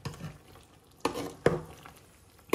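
Fried rice with cauliflower is stirred and mixed in a hot pan, giving a soft sizzle under a few sharp scrapes and knocks of the utensil against the pan, close up and without speech.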